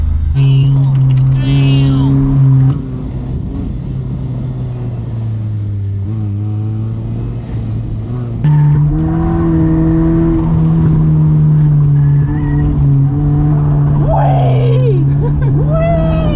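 An abandoned, cheaply bought Honda Prelude drives with its engine droning and revving up through the gears, loud from inside the cabin. People talk over the engine.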